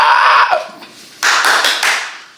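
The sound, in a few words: hands clapping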